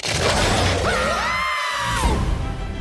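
Glass shattering in an animated Looney Tunes trailer, a loud crash with ringing high fragments that spread across the whole clip under music and effects.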